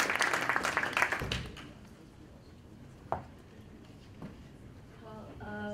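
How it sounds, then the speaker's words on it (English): An audience at a tech summit claps for speakers and panelists, a burst of dense applause that fades out after about a second and a half, followed by quieter room noise and talk. "Please give our speakers and our panelists a round of applause."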